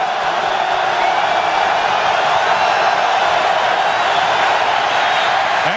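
Football stadium crowd at an NFL game between the Minnesota Vikings and Green Bay Packers, a loud, steady roar of cheering and noise that holds without a break, with no clear speech over it.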